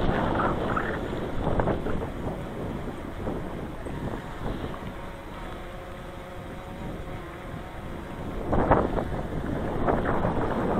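Strong outdoor wind in bitter cold buffets the microphone with a constant low rumble, swelling in gusts at the start and near the end.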